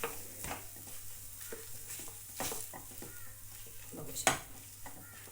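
Potato filling is sautéed in a pan, with a quiet sizzle under repeated scraping strokes of a spatula and a sharper clink near the end.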